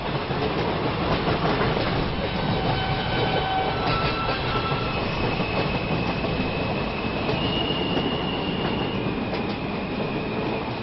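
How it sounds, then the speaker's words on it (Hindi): Coromandel Express pulling out of Shalimar station in West Bengal: a steady, loud rumble and rattle of rolling wagons, with thin wheel squeals drifting above throughout and no voices. "पश्चिम बंगाल के शालीमार स्टेशन से स्टेशन मास्टर ने हरी झंडी दिखाई और फिर कोरोमंडल एक्सप्रेस अपनी मंजिल की तरफ बढ़ गई"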